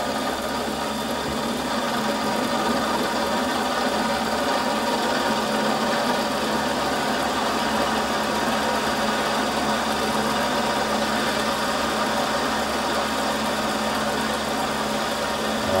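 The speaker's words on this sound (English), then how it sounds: "I'm going to run that cutter" A milling cutter turns on a rotary table in a workshop, giving a loud, steady, even mechanical whir and hum that holds unchanged throughout with no pauses and no voices.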